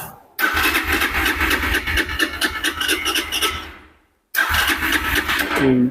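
A 200cc carburetted motorcycle engine starts and runs with a loud, rough mid-pitched rumble, cuts out briefly, then catches and revs again.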